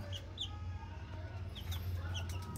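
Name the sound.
12-day-old Miner blue x McLean gamefowl chicks fighting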